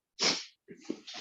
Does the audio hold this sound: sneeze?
yes